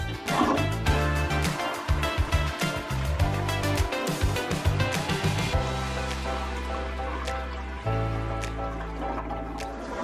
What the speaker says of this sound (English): All right, let's give this a flush.